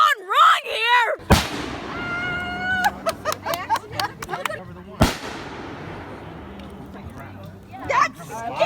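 Fireworks going wrong: two sharp, loud blasts with bursts of crackling and popping between them, and people talking and reacting excitedly throughout.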